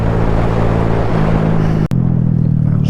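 A motorcycle engine drones steadily during a cold-weather ride, a loud, close low rumble with wind noise, briefly cut by a sharp click before the drone carries on.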